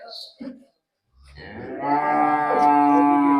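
A young heifer gives one long, loud, close moo that swells and holds steady after a few brief soft noises and a short pause.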